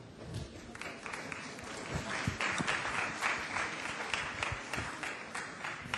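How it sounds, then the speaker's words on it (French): Applause from an audience at a regional political forum, a steady wash of many hands clapping, fairly quiet and distant, with faint voices underneath. "On peut l'applaudir."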